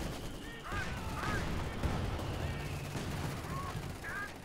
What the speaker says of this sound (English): I've got a lot of mortars dropping shells on it.